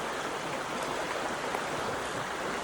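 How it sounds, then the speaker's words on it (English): A small creek flows steadily, a soft continuous rush and trickle of water over stones, close and even with no voices. "this is just one creek, one of the millions of creeks"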